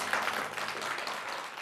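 Spectators at the Gomel State Circus applaud the circus orchestra, a sustained and fairly even roar of clapping that carries through the hall at moderate volume.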